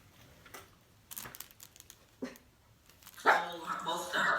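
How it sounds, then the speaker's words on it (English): Dogs at home give a few short, sharp barks and yips at a distance, spaced out amid faint rustling, before a person speaks loudly near the end. "What you barking at?"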